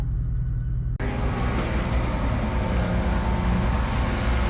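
A big loader working close by while loading dump trucks on a driveway job, giving a steady, loud, continuous diesel engine rumble with no break.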